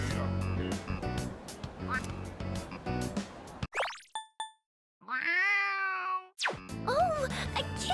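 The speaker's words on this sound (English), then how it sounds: "Oh, a kitty cat!" A cartoonish cat meows in the video game Persona 3 Reload, rising and falling tones heard amid busy game music and plopping sound effects, with a brief silent gap before the meow.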